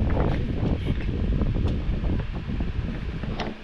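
Steady wind buffets the microphone with a low, rumbling roar that persists throughout without pause.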